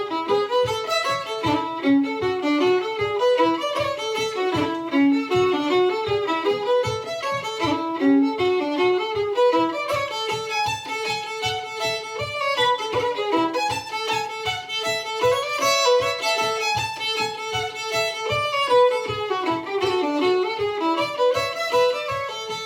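Steady heel-toe foot taps keep a regular beat under a lively Cape Breton fiddle tune, the soft thumps evenly spaced and continuous beneath the bowed melody.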